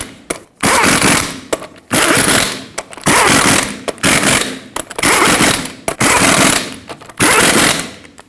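An impact wrench drives the wheel lug nuts on a 2011-2016 Ford F-350, tightening them in a cross pattern: loud, close rattling bursts of about a second each, repeated roughly seven times with short gaps.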